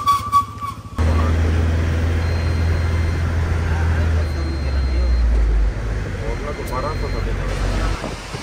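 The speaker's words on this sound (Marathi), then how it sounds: "हा बस स्टँड आहे बद्रीनाथचा." Traffic at the Badrinath bus stand, with a steady low vehicle rumble starting after a brief pause and running loud and close, dipping slightly near the end.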